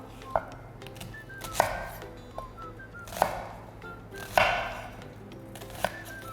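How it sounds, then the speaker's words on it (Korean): A knife slices through an onion on a cutting board in sharp, separate chops about a second apart, close and moderately loud, over a low background hum. "양파는 부채꼴 모양대로 안으로 어, 칼집을 넣어서 썰어 주시면 되고요"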